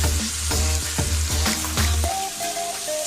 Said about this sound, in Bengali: এখানে মুরগিগুলো আমি ভাজতে দিয়ে দিয়েছি